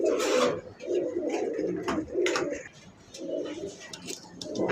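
Pigeons at a Bangladeshi pigeon farm coo in repeated low, throaty rolling bursts, several birds overlapping close by, with faint clicks and rustling in between.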